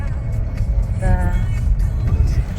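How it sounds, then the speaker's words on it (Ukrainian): Road traffic in a busy area, with cars rumbling past in a steady low drone and voices talking over it. "Машины везде."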